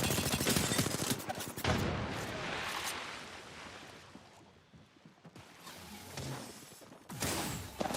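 Dense video game gunfire with bursts of rapid shots and blasts, loud and continuous with a brief lull midway before the firing resumes.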